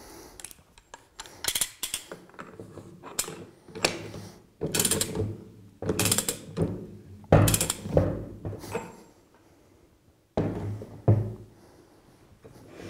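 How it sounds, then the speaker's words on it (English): Nut being retorqued on a Flotronic one-nut diaphragm pump, a series of close mechanical ratcheting and clanking bursts of wrench work with short pauses between them. "And then we can retorque the pump."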